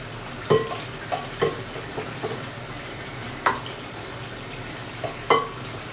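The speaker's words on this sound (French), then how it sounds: "En même temps, nous allons frire nos bananes plantains." Plantains frying in oil give a soft, steady background sizzle broken by several sharp clinks and knocks from utensils against the pan, with no talking.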